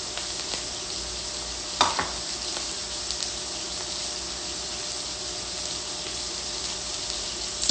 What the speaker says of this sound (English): So you can see these are already sizzling.